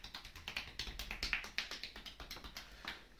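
Rapid percussive taps land on a person's body during a manual shoulder and shoulder-blade massage, a quick uneven series of light slapping strikes close by with no talking.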